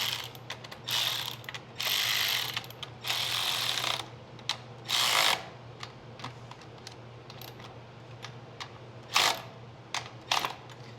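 A hand ratchet tightens the valve cover bolts on a Generac GP7500E generator, sounding in close bursts of rapid clicking separated by short pauses, with a few single clicks near the end.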